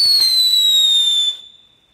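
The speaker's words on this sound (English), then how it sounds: "when in doubt of what to do next at a party, just cook off some fireworks" A firework set off at a birthday party gives a couple of sharp crackling pops and then a loud, steady descending whistle. The whistle cuts off after about a second and a half and leaves quiet behind it.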